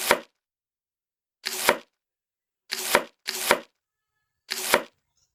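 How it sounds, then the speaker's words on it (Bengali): A knife chops through the stem ends of pointed gourds on a board, five sharp separate cuts spaced irregularly, close and crisp with silence between them. "এখন আমি বোটাগুলো সম্পূর্ণ কেটে নেব"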